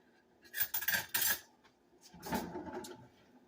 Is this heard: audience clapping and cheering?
no